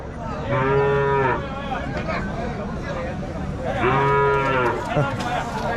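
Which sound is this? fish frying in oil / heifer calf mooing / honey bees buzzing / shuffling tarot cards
heifer calf mooing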